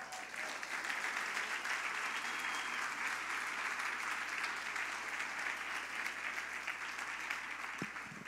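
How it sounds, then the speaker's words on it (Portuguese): A church congregation claps steadily in a quiet, distant wash of applause that stays even for the whole stretch. "Se é para Jesus, aplaude."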